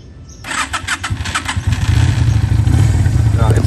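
A 2022 Super Harley 150 motorcycle with 195 km on the odometer is started up, its engine catching after a brief crank and settling into a loud, steady idle close by.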